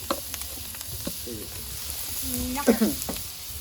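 Momo filling with salt, red chilli and spices frying in a pan gives a low steady sizzle, with scattered stirring scrapes and a brief louder clatter near the end; no talk.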